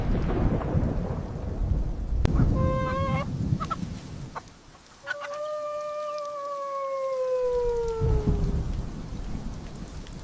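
A village storm with rain, a sharp thunder crack followed by rolling rumble and steady downpour, while a long wavering howl-like cry rises and falls over it, with no talk.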